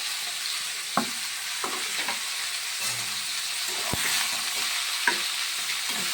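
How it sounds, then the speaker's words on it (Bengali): Ash gourd pieces fry with browned garlic in a pan, giving a steady sizzle with a few sharp stirring knocks and scrapes at close range, without any talk. "এবারে আমি চাল কুমড়োটা দিয়ে দিলাম।"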